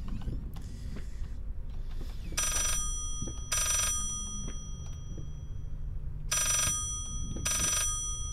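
A painting rings inside the horror video game Layers of Fear, its shrill, bell-like bursts repeating four times in loud pulses over a low creaking, mechanical rumble.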